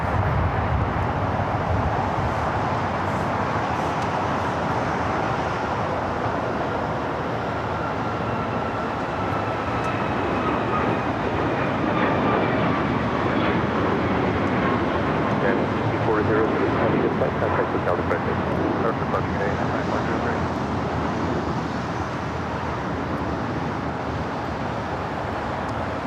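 American Airlines Boeing 777-300ER taking off from runway 25 right at LAX, a steady broad jet roar that holds loud and continuous throughout, with radio talk over it.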